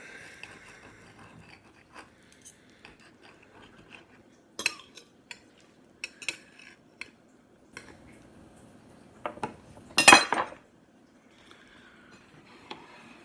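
A knife slicing a ramen, chili rice and cheese chip bag burrito down the middle: soft scattered crinkles and taps build to one loud crunching crackle near the end, close and alone with no talking.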